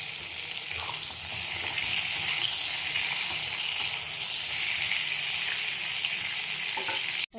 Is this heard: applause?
no